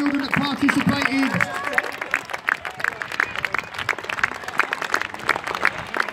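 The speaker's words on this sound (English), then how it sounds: "And one big round of applause for all of the children that participated." Crowd clapping and cheering at a school sports day after the children's races, with an announcer's voice over the applause.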